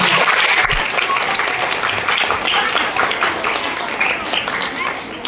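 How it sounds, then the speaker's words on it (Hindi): Sustained applause from a large school audience at a government school Haryanvi folk dance workshop, dense steady clapping filling the whole stretch with a slight fade toward the end. "सबके लिए जबरदस्त तालियां।"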